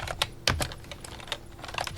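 Quick bursts of keystrokes on a computer keyboard while entering a browser search in web analytics software, close and clear with uneven rhythm and a few sharper clacks, no talking.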